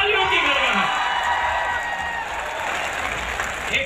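A crowd of young people at a college event applauds in a thick, loud, continuous roar of clapping, with cheers and whoops mixed in and a voice carrying over it.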